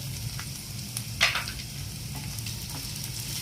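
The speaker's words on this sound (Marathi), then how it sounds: "आता हे बऱ्यापैकी चांगलं परतून घेते मी" Onion, garlic and ginger sautéing in a pan for spicy Kolhapuri misal, with a soft steady sizzle and a few light stirring scrapes, one brief louder scrape midway, no voices.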